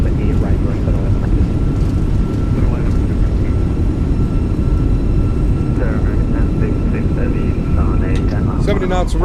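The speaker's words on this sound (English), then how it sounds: "Reversers are out. Decelerating." Airbus A320 thrust reversers roaring as the jet decelerates on the runway after landing in a flight simulator, a loud continuous rushing drone throughout, with a person talking over it.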